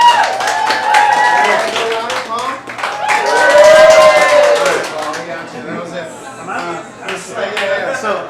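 Live improv comedy audience applauding in a theater, a swell of clapping and crowd noise mixed with someone speaking over it, fairly loud and close.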